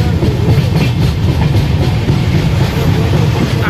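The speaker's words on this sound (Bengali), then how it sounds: "আমরা এখান দিয়ে এখন ট্রেনের ব্রিজ দিয়ে ক্রস করছি" A train rolls across a railway bridge over a wide, fast-flowing river in North Bengal, a loud, steady rumble with continuous clickety-clack of wheels from close by throughout.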